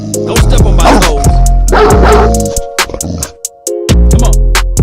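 A dog barks repeatedly at a loud, close level, with yips and whimpers amid heavy crowd or room noise and steady humming tones; no clear speech.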